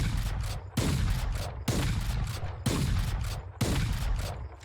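Sniper rifle shots fired in quick succession with reloads between them in Valorant, five sharp loud cracks at an even rhythm, each followed by a brief decaying tail, with no talk.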